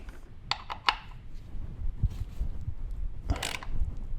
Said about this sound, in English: Let's get the ratchet